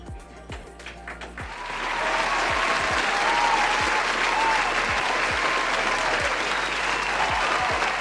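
An audience applauds spontaneously at a sixtieth-birthday event, the clapping building after two seconds into a full, sustained ovation, with low rhythmic thumps underneath.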